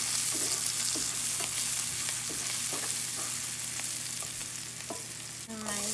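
Garlic sizzles steadily in hot oil as a first step toward shrimp fried rice, with repeated scraping stirs across the pan every second or so and a brief metallic clink near the end; no one talks.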